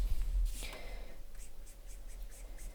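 A marker nib is worked over paper to colour a light fantasy illustration: soft, close, quiet scratchy strokes in a loose repeating rhythm over faint background hum, with no talk.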